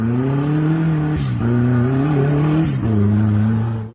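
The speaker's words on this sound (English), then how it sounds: "The dark blue Jeep tried to accelerate and power its way up a narrow dirt slope in the forest" A dark blue off-road Jeep engine revs hard while powering up a narrow, steep forest dirt slope, holding a loud close droning note with two brief dips and surges in pitch as it strains against the incline.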